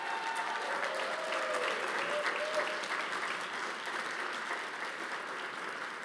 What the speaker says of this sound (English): you're going to have to give it to them a lot of applause tonight